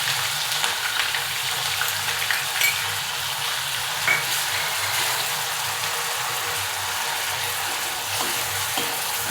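Onion gravy being stir-fried in a pan for rajma bhaji gives off a continuous, close sizzle, with light scraping from stirring now and then and no voices.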